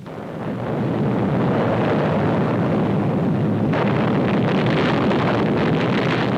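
Atomic bomb test explosion over the Pacific at Bikini, seen from a ship: a dense sustained roar that swells in over the first second and then holds as a heavy, wind-like rumble, loud and unbroken, with no voices.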